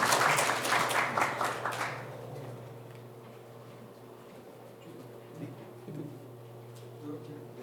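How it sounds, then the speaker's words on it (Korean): Audience applause at a national assembly suicide-prevention policy forum: a dense burst of clapping for about two seconds that cuts off quickly, followed by a quiet room with low hum and a few faint knocks and shuffles. "여러분 큰 박수 부탁드립니다"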